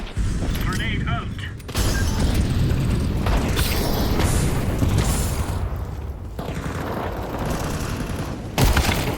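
Loud grenade explosion and bursts of gunfire in a first-person shooter game, with a heavy boom followed by sustained rattling fire and mechanical clatter, ending in another sharp blast.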